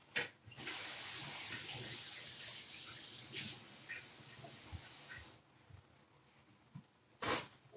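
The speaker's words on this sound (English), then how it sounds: "I'll wash my dish very fast" Tap water runs steadily into a sink as a pan is rinsed under it, a close hissing stream lasting about five seconds before stopping, followed by a brief splash near the end.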